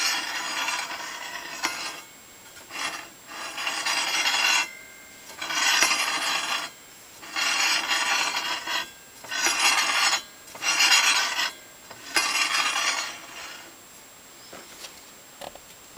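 A wooden board slides back and forth across a DeWalt 7491 10-inch table saw, giving a loud, close, rasping scrape in about eight long strokes separated by brief pauses.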